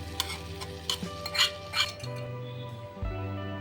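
A spoon stirs tadka into dal makhani in a pan, giving a few scraping, clinking strokes over a low steady hum, then a soft bubbling simmer.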